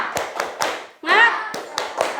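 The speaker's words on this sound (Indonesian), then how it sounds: "Tepuk semangat dulu." Schoolchildren in a fourth-grade class do a rhythmic chant-and-clap routine, sharp claps in a steady pattern with a brief burst of voices chanting in the middle, near and fairly loud.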